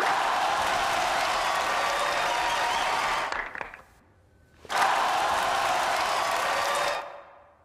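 A movie theater crowd cheers and applauds in two loud, dense bursts separated by a short lull.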